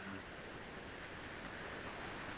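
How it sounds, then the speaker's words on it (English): Steady heavy rain and wind from a storm outside, a dense unbroken wash of noise that holds at an even level throughout, with no voices. "there's a lot of rain and wind, and you can hear it outside."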